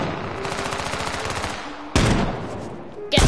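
Gunfire from the video game H1Z1 comes in a rapid burst of shots, followed by two separate loud sniper-like cracks that ring out close and sharp.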